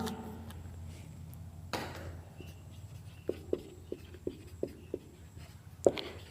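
Chalk writing on a board during a physics lecture, a run of quick, evenly spaced taps and scratches over a faint room hum, with a louder knock near the end.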